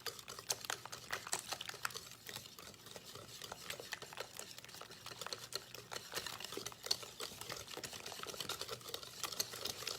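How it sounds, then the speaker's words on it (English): A whisk beats Dutch baby pancake batter in a bowl, a quick, steady run of soft clicking and sloshing strokes that continues evenly at close range. "Whisk together all of this."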